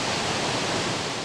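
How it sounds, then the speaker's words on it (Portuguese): A roaring waterfall of about 50 metres of water crashing down without pause, a loud, continuous, even wall of rushing noise heard up close with nothing else over it. "É só ouvir o som ruidoso da cachoeira."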